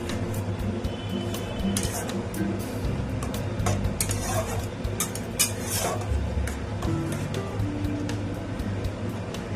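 Chhana curry stirred slowly in a pan over a low flame, with soft, irregular scraping and clinks of the utensil against the pan over a faint simmering sizzle. There is no talk.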